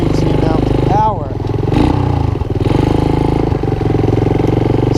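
A Honda TRX200SX ATV with hard shifting revs sharply on a downshift, its engine climbing in pitch, dipping, then pulling steadily again, loud and close with a voice talking over it.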